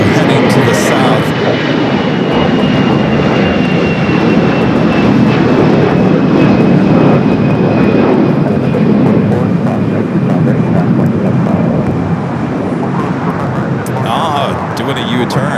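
A jet airliner roars steadily through its takeoff run at LAX, a loud, broad engine rumble sustained across the whole stretch with no pause, fading slightly near the end.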